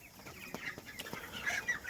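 Farm chickens cluck and murmur in a flock, a busy layered chorus of short calls at close range with no talking.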